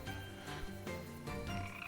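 Frog croaking in the video game Colossus - Eternal Blight, a steady run of throaty croaks repeating alone, fairly quiet and close.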